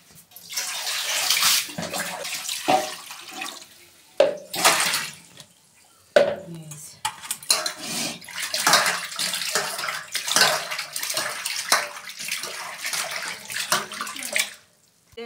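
Food being washed under running water in a kitchen while preparing a fish curry, with steady splashing and trickling, intermittent handling splashes and drips, close and fairly loud.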